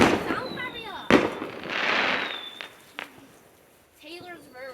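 Bonfire Night fireworks crack and pop outdoors, with a couple of sharp nearby bangs and fizzing bursts between, while people chatter and exclaim throughout.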